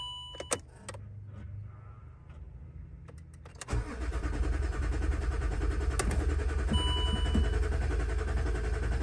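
A Land Rover Discovery 3 with an engine system fault starts up and runs, a rough mechanical rumble swelling after a few seconds of clicks and whirring, then holding a steady loud running noise nearby with no talking.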